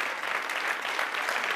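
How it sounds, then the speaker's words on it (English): An audience applauds for motorcycle racer Valentino Rossi, steady dense clapping sustained throughout at moderate loudness with no voices on top. "big round of applause for Valentino Rossi"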